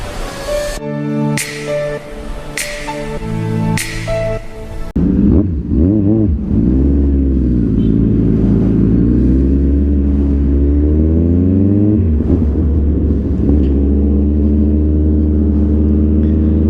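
A Kawasaki Z1000R engine while riding, loud and close, with a steady rising and falling roar that pitches up through the revs after a brief patterned whine at the start.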